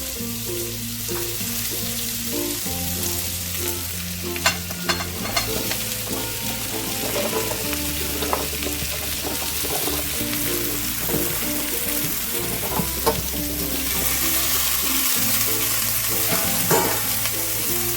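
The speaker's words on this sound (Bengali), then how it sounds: "তেলের মধ্যে কপি ডাঁটাগুলোকে এক মিনিট একটু নাড়াচাড়া করতে করতে" Cauliflower stalks and mixed winter vegetables fry and are stirred in hot oil, giving a loud, dense, continuous sizzle with steady spatula scrapes and knocks close by.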